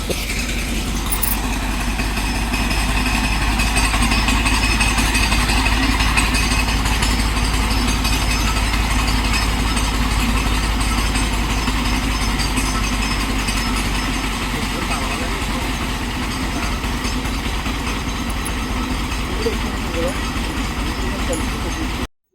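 An engine running at a farm field to pull a rope hums steadily and close for the whole stretch, with people talking over it.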